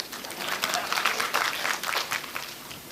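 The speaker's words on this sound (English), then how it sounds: "You give a big clap for judge." A lecture audience applauds a judge, a steady wash of many hands clapping together, dense and continuous throughout with a few voices mixed in under it.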